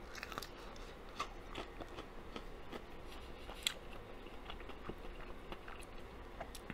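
Soft, irregular crunching bites and chewing of fresh, crunchy fried chicken, close to the ear, with no voices over a quiet background.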